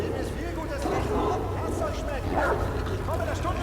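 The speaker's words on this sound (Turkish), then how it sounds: "Nereden geliyor köpek sesi be?" Dog barks and yips come from Wolfenstein: The Old Blood game audio, sounding moderately near and interleaved with a person talking over them.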